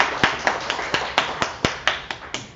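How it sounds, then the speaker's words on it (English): Clapping at a CityJS India tech meetup as a speaker is welcomed on stage; about a dozen distinct, evenly spaced claps from just a few people, close and crisp, with no talking over them. "huge round of applause for Parth"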